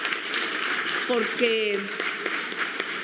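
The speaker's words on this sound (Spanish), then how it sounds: "Yo pediría que le demos un aplauso de reconocimiento" An audience applauding at a commemorative feminist congress event: dense, continuous clapping fills the whole stretch while a speaker's voice carries over it.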